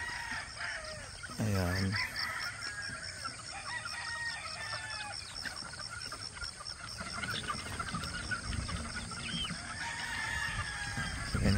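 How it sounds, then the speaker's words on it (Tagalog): Chicks and chickens in a coop at early morning while feeding, with clear clucking and crowing near the microphone, repeated calls and soft peeping, and a person speaking briefly. "Ito yung mga sisiw natin. Kumakain na sila."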